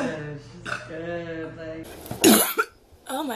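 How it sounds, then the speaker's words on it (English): A woman coughs and burps at once, giving one rough, throaty burst that stands out after a stretch of her talking; more speech follows right after. "I coughed and burped at the same time."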